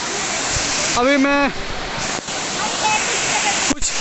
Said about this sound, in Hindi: देखिए इतना पानी आ रहा है। ये और नीचे तक जा रहा है